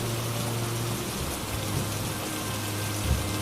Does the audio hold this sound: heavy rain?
yes